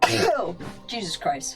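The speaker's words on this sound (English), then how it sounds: "It sounded like a cough sneeze." A cough-like sneeze bursts out close up in one sharp, throaty blast, followed by a brief exclamation from a voice.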